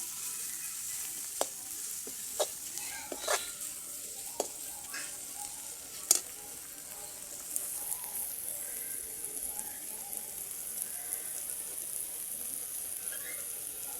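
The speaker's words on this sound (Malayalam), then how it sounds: "നമുക്ക് വെണ്ടയ്ക്ക വാട്ടുമ്പോൾ ഇച്ചിരി ഉപ്പും ഇട്ട് കൊടുക്കണം" Okra sautéing with salt, chilli powder and other spices in a pan, a soft, faint sizzle marked by occasional sharp clicks of stirring.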